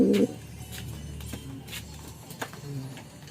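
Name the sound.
pigeons cooing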